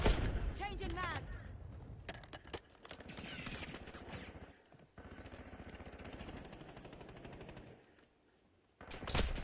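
Rapid gunfire bursts in Call of Duty: Warzone, loud and close, with sharp repeated shots broken by short pauses and a near-silent gap before a final burst; game sounds and voice-like noise mixed in.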